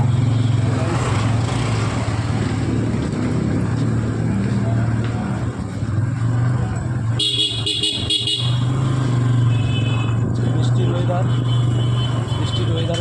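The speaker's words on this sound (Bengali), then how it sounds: "প্রায় 2 ঘন্টা জার্নি করবো বাইকে" A motorbike travelling along a rain-soaked road during a long evening ride, its steady engine and tyre hiss running continuously, with a burst of horn honking midway from passing traffic and a voice talking over the ride.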